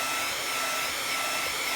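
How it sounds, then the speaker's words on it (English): A heat gun blowing steadily to heat-set stamped ink for Copic coloring, a constant close airy roar of fan and hot air with no breaks or voices. "So I have my heat gun plugged in right here, and I'm going to just go ahead and heat set the ink a little bit."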